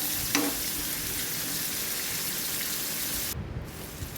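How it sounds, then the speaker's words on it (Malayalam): Dried chillies, green chillies and coconut frying in a pan while being stirred for a Kerala koorka stir-fry, a steady loud sizzle with a brief clink near the start and a stir scrape near the end, no talk. "ഇത് നന്നായിട്ടൊന്ന് ചെറുതായിട്ടൊന്ന് മൂപ്പിച്ചെടുക്കുക."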